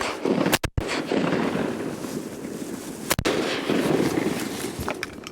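Two sharp, loud shotgun blasts ring out during a duck hunt, spaced a few seconds apart, over steady wind noise outdoors.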